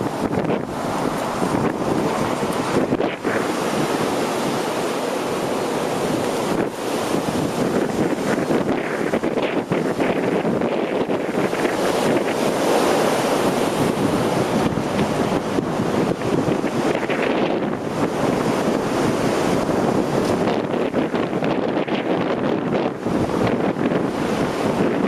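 Strong winds roar outdoors on a dark February night in New Jersey, a loud, continuous buffeting rush that batters the microphone with gusty swells and no voices.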